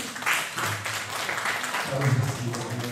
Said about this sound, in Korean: 환영하는 마음으로 박수하겠습니다